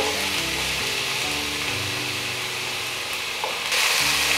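Chopped onion fries in olive oil in a pan, a steady close broadband sizzle that holds evenly with light stirring scrapes and a faint hum underneath.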